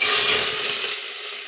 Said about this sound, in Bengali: হকিন্সে তেল গরম করতে দিয়েছি, এতে গোটা গরম মশলা ফোড়ন দিয়ে পুরো এই চাল ডাল, এই মশলা মাখানো এই চাল ডালটা দিয়ে কিছুক্ষণ ভেজে নেব